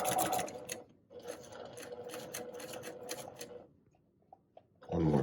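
A sewing machine stitches a quarter-inch quilt seam in a rapid, steady, fairly faint mechanical chatter. It stops briefly, then one final stitch sounds.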